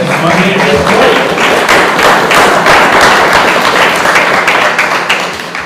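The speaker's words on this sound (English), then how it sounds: "they deserve a round of applause for Ms. Cox" A school district meeting audience applauds Ms. Cox, with dense, sustained clapping throughout that is loud and continuous, fading slightly at the end.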